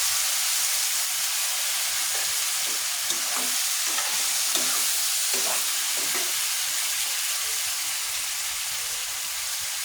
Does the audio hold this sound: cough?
no